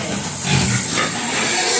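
Pigs in a piggery grunting and snorting steadily against a dense, noisy barn background, loud and close with no pauses.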